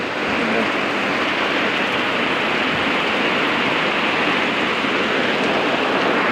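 Heavy monsoon rain pours down steadily around a house in Kerala, a loud, unbroken dense hiss with no pauses.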